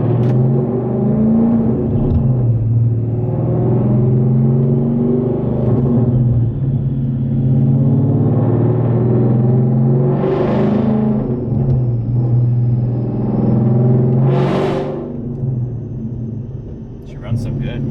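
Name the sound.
700+ hp car engine revving on a dyno pull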